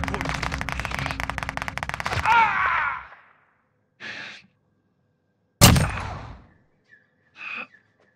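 Rapid automatic gunfire in a Call of Duty: Warzone quads match, a dense burst of crackling shots that fades out, followed by a few short, isolated bursts and a sharp loud report with decaying echo.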